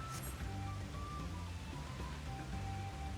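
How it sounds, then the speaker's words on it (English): Steady pouring rain in Final Fantasy XIV Dawntrail, a continuous hiss of falling water with faint musical tones drifting over it, no talking. "Out here, in the pouring rain. Possibly a storm."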